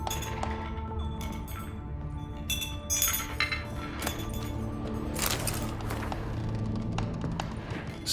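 Metal spoon being picked up and handled in The Witcher 3, giving light clinks and taps of metal on glass and hard surfaces over a low steady ambient bed, with brief bright clatters scattered across the clip.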